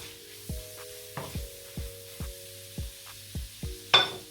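Oil sizzles softly as shrimp stir-fry, with evenly spaced clinks and knocks repeating about twice a second, ending in a brief louder burst of hiss.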